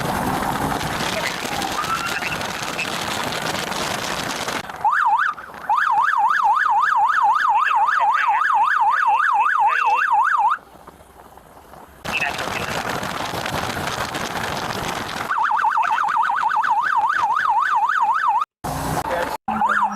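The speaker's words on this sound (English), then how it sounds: "a motorcycle officer escorts the ambulance to the nearest hospital" An ambulance siren wails with a fast warbling pitch in two long bursts as a motorcycle police officer escorts it, loud and close, separated by stretches of other loud noise and a brief quiet gap.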